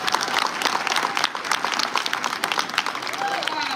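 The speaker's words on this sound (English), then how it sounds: "So let's give us a round of applause." A crowd applauds steadily throughout at a financial wellness symposium, dense clapping with some voices mixed in.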